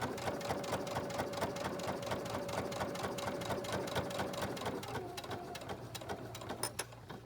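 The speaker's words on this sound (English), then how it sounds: "Don't forget to backstitch when you start." A sewing machine stitches through layered fabric for coasters, a steady fast mechanical whir and needle clatter running continuously and close, slowing and becoming more irregular near the end.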